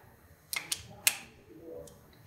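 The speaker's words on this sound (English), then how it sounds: "torque it nice and even" A torque wrench tightening crankshaft cover bolts on a 2018 BMW S1000RR motorcycle engine, three sharp clicks in quick succession, then a fainter click shortly after, close and otherwise quiet.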